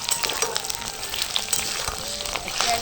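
Cut potatoes and taro fry in hot oil in a home kitchen, giving a steady, dense crackling sizzle with small pops throughout.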